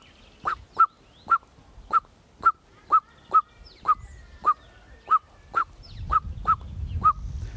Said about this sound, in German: dann würden aber die Amseleltern schon mal den Bodenfeind-Warnruf in leichter Form